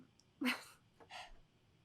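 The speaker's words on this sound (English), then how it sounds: "I had to sneeze, I'm sorry." A single quiet sneeze, a sharp burst followed by a softer exhale, close to the microphone in an otherwise quiet room.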